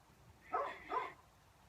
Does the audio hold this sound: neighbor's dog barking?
yes